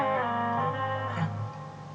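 Epiphone Nighthawk Custom Reissue electric guitar with a mahogany body, played on its full bridge humbucker: a sustained chord rings out loud and alone, with a slight pick attack near the middle before it decays.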